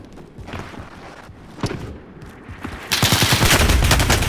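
Rapid bursts of video game gunfire ring out close and loud, sparse shots at first and then a dense, sustained volley near the end.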